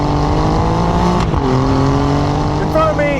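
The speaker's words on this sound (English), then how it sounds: "In front of me is a Ferrari-derived V6 engine" Alfa Romeo Giulia Quadrifoglio with its Ferrari-derived V6 engine, a loud sustained engine note with steady tones that rise and shift as the revs change, heard up close.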